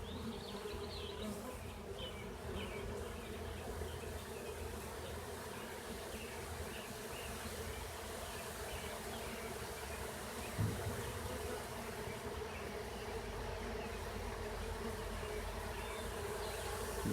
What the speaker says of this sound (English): This frame started buzzing really loud, which indicates that they've just now lost their queen.